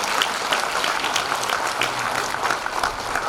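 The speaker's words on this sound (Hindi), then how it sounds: "एक बार जोरदार तालियां।" An audience at an award ceremony gives loud, dense clapping for Dhyan Chand awardees, a steady burst of many hands with no talking.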